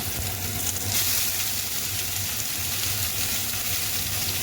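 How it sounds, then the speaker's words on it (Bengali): Chopped leafy greens added to potatoes frying in oil in a pan give off a loud, continuous, close-up sizzle that stays fairly even throughout. "এবারে শাকটা দিয়ে দেবো"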